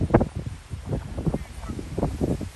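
Several geese honk repeatedly nearby in Baton Rouge as Hurricane Ida approaches, loud overlapping calls in an irregular rhythm.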